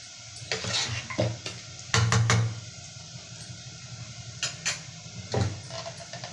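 Raw mango curry stirring and frying in a pan: soft scraping strokes of a spoon against the metal come in short bursts over a faint, low sizzle, close and quiet, with no talk.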